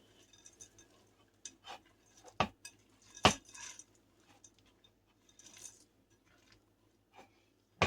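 Walnuts and chocolate chips being mixed into banana cookie dough in a bowl: quiet, intermittent scrapes and taps of a utensil against the bowl, with a couple of sharper clinks, close and without talk.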